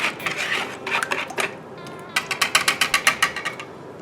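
A rum mixture is whisked in a bowl: quick rhythmic metallic clicks, first in loose bursts and then in a fast steady run of about a dozen strokes, close up with no speech.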